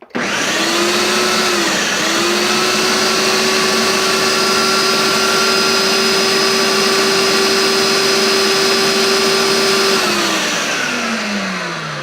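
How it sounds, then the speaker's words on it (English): A kitchen blender pulses red cabbage in hot water, a loud, steady motor whir holding one pitch for about ten seconds before winding down at the end. "turn on the blender and then pulse the red cabbage in the hot water until it's completely blended"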